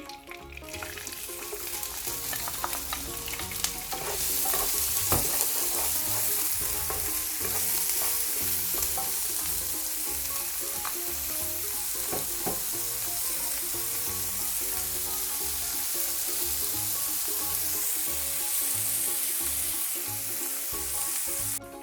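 Onions fry in hot oil with popped mustard and fennel seeds, producing a dense, continuous close sizzle broken by occasional clicks and scrapes of stirring throughout.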